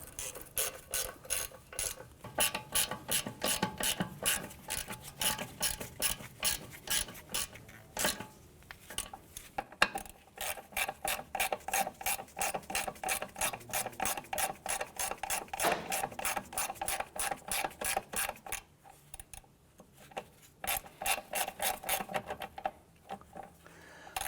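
A hand ratchet clicks rapidly and steadily while bolts are snugged down on a 2004-2008 Acura TL during CV axle replacement, with brief pauses between runs of close, even clicking.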